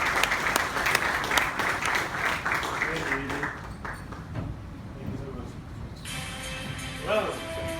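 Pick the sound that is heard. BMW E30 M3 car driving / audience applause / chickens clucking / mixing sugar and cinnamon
audience applause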